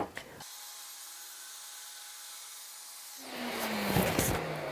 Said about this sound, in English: I'm just going to use the track saw to trim off this last little edge here